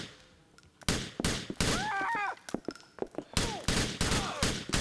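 Rapid gunfire in the video game Grand Theft Auto IV: loud bursts of sharp shots, some in fast volleys, with brief echoing gaps and a few softer sounds between them.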